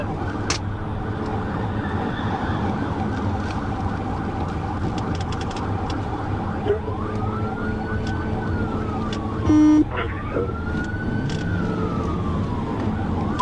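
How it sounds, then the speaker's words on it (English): Police car siren wailing during a high-speed chase, rising and falling sweeps over steady road and engine noise, with a sharp burst near the end, loud and close throughout. "Upon activating emergency lights and sirens, Jackson accelerated and continued to make s"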